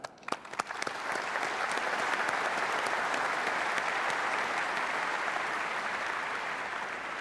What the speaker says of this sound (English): join me in giving our tremendous R&D and engineering organization a great round of applause for this effort